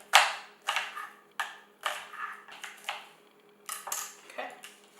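An onion quartered and sliced with a knife on a board, a string of crisp irregular chops and taps close up, with faint background hum and no talk.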